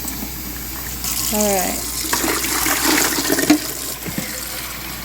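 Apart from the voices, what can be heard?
hot water poured into Igloo countertop ice machine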